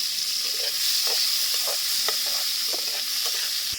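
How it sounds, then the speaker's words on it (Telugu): Tomatoes and mint leaves frying in oil in a pan give a steady, close sizzle, with scattered clicks of stirring throughout. "ఇప్పుడైతే టమాటాలు వేసుకున్నాం టమాటాలు కూడా వేగాలి"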